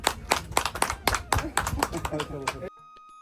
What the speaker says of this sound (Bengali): হাততালি দেই সবাই